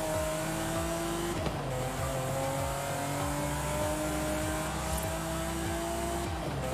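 A Ferrari 512 TR engine in the video game Forza Horizon 5 revs hard and loud, climbing through repeated gear changes with rising, dropping pitch in a regular rhythm, with no voices.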